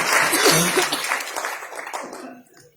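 An audience at a network marketing motivational talk claps in a dense burst of applause that starts loud and fades away over about two seconds, with a few coughs and voices mixed in.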